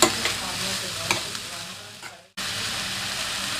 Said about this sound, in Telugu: మొత్తాన్ని బాగా ఫ్రై చేసుకుందాము.